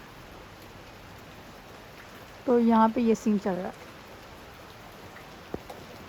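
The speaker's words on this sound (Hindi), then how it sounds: "बारिश होना स्टार्ट हो गई और इतनी तेज़ बारिश हो रही है।" Heavy rain in a steady, even hiss of falling water continues throughout, while a person speaks briefly over it midway.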